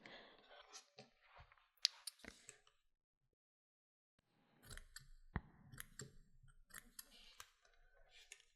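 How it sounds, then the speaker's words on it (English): Scissors snip loose yarn strands on a Clover pom-pom maker, a scattering of faint close clicks and snips in two bursts separated by a short silence. "we might want to take this opportunity to cut off any strands that are longer than the other"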